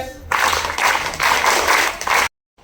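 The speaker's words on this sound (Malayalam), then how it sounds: "നമ്മുടെ കുട്ടികളെല്ലാം ഒന്ന് മൂന്ന് തവണ കൈയടിച്ച്" A group of schoolchildren at a government upper primary school assembly clapping three times in unison, three loud crowded bursts of claps in quick succession before an abrupt silence.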